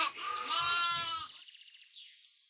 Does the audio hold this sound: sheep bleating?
yes